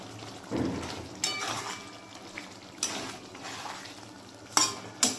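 Pomfret cooking in a mustard and poppy-seed curry with whole green chillies and chopped coriander added, a soft simmer under irregular stirring scrapes and a few sharp clinks of utensil on pan.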